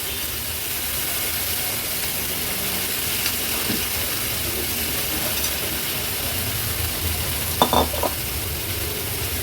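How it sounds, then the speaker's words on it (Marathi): Mixed vegetables with large cauliflower florets being stirred into spices in a hot pan for a Marathi veg thali, giving a steady sizzle and frying hiss with a few brief scraping clinks near the end. "आता भाजी व्यवस्थित मी मिक्स करून घेते मसाल्यांमध्ये"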